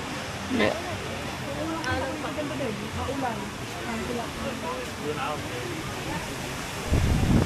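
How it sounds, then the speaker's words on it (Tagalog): Steady, strong wind by the sea roaring and buffeting the microphone, with a brief gust at the start and a louder blast at the end. "Wow, lakas ng hangin."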